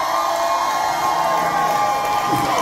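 A crowd at a line dance event cheers and whoops loudly and continuously, with scattered high shouts rising over a dense roar of voices.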